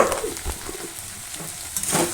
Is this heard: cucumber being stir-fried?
yes